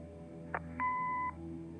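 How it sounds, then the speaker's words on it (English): An answering machine in the Kathy Rain video game gives a short click and then a single sustained electronic beep of about half a second, heard alone against a quiet background hum. "Leave a message after the beep."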